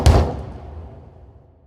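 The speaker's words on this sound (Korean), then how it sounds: "문을 두드리는 소리가 들렸습니다" A single heavy knock lands on a door, close and boomy, its thud trailing off in a short echo with no voices around it.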